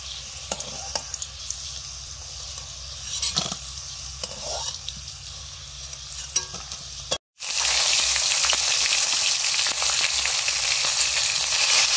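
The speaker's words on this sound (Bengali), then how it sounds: "এরপরে ফুলকপিগুলো ভাজবো।" Cauliflower florets fry in hot oil in a pan, a steady bright sizzle that starts faintly with a few stirring scrapes and then jumps sharply louder after a brief cut, continuing strong and even to the end.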